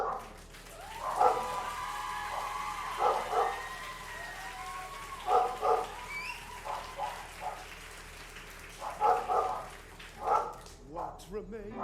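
Dogs bark as mail is dropped off, a few short clustered bursts of barking scattered through the clip, mixed in under ongoing talk and background sound.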